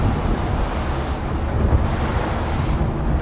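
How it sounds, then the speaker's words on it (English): A boat rides through rough sea waves, heard as a loud, steady wash of surf and rushing water mixed with heavy wind buffeting the microphone. "Here we go, going through the waves."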